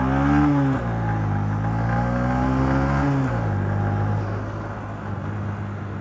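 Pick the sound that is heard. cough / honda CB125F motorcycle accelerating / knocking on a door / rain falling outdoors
honda CB125F motorcycle accelerating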